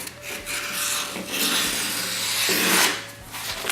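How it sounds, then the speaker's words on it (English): Scissors or a blade cut through surplus decal tape in a continuous close rasping, rubbing sound with swells of scraping, no voices. "We have all this extra tape right here that we don't need, so let's cut it all."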